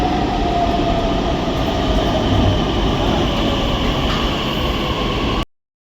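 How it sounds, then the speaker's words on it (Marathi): A Pune metro train rides from Vanaz station, a loud continuous rumble of wheels and motor with a steady hiss, heard from inside the carriage until the sound cuts off abruptly near the end. "आता मी वनाजमधून मेट्रोमध्ये चढलेलो"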